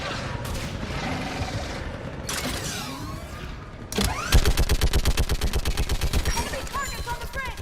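Mounted gun in Mass Effect 3 opens up with a fast, steady burst of heavy rounds after scattered gunfire and mechanical clanks, loud and close, with voices calling out over the battle.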